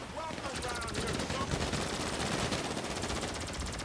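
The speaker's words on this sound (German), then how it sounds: "hier schießen ganz schön viele" Heavy sustained gunfire fills a GTA V Online heist shootout as loud, dense rattling bursts overlap throughout, with a voice speaking briefly underneath.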